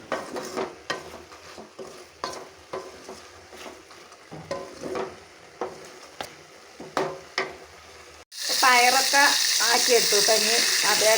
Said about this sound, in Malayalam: കുറച്ച് സോയാബീൻ ഉണ്ട് അതൊന്ന് പൊരിക്കാൻ വേണ്ടിയിരിക്കുകയാണ്